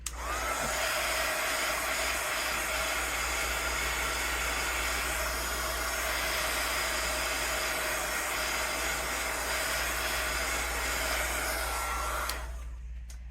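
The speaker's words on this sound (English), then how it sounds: "Let's just use our heat tool to dry it off a little bit before we turn it upside down and glue it together." A heat tool blows steadily to dry a stamped card, a loud, close, continuous hiss and whoosh lasting most of the time before switching off near the end.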